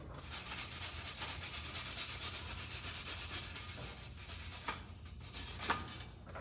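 A small hand wire brush scrubs a stick (SMAW) weld on a 3G vertical joint with steady, close, rasping strokes that continue evenly throughout, plus a couple of sharper scrapes near the end.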